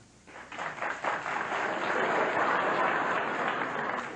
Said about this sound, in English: And those applauding are just Russians.